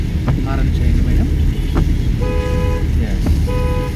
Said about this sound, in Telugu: హారన్ చేయండి మేడం